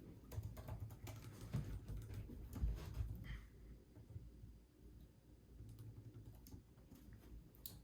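Fingers tap on the keyboard of a new MacBook Pro M1 laptop, a steady run of soft, quick clicks for several seconds, close and fairly quiet, with no talking.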